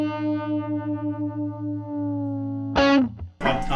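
Electric guitar with a Univibe modulation effect, a sustained distorted note pulsing in a regular wobbling throb, then a couple of sharp picked phrases, close and alone.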